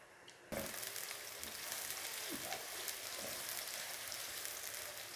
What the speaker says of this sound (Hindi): एक कढ़ाई में ये ऑयल ले लिया है, ये जब थोड़ा सा गर्म हो गया तो इसमें अब मैं प्याज डालने लगी हूँ।